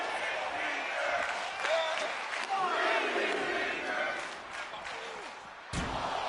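A crowd cheers and shouts at a wrestling match, a dense roar rising and falling with scattered yells, some thumps and an abrupt drop near the end.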